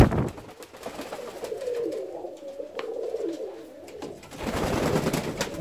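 Fancy ornamental pigeons coo steadily and low in a loft, close by, with bursts of wing flapping at the start and end as the birds take off.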